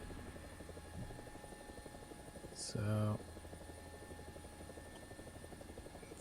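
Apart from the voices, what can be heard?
British attack helicopter in a video game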